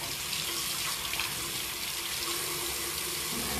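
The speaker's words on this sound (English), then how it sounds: "And then I just rinse it out some," Tap water running steadily into a sink while a cleaned brush is rinsed, a close, continuous hiss and splash with no talking.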